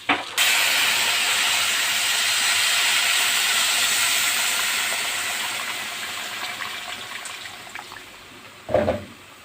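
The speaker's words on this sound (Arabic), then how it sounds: "هنجيب بقى مية سخنة ونزودها." Hot water pours into a pot with a loud, steady hissing sizzle that gradually fades, ending with a brief clunk.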